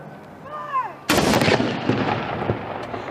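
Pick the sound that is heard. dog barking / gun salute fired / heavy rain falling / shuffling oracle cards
gun salute fired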